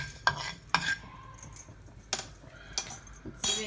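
Timur pepper dry-roasts in a pan as a utensil stirs it, giving several sharp, close scraping and rattling strokes at irregular intervals, with quiet gaps between them.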